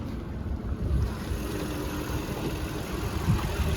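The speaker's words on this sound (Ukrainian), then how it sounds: "Послухаємо двигун." A Volkswagen Touran 1.6 petrol engine gives a low, steady rumble, idling evenly throughout, a constant close drone with no voices over it.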